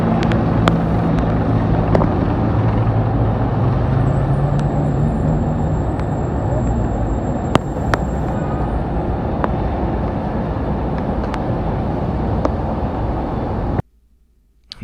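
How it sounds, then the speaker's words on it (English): Military helicopters flying overhead in Washington, D.C. near the White House, a loud continuous low rotor rumble and droning roar that holds steady for most of the stretch before cutting off abruptly near the end. "helicopters flying overhead. This is in D.C. near the White House."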